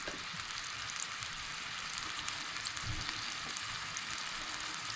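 Burger ingredients fry on a hot plate at medium-high heat, producing a continuous bright sizzle up close with occasional soft crackles and pops and no voices.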